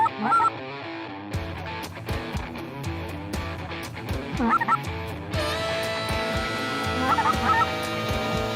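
Snow geese and white-fronted geese honk in a few scattered bursts over steady outdoor background noise near a hunting area at Lodge's Corner, Arkansas, with no talking.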